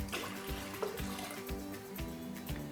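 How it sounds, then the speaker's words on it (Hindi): Water is poured into a pressure cooker holding beef bones for nihari broth, a faint continuous splashing trickle with soft clinks. "और पानी डाल देते हैं इसमें।"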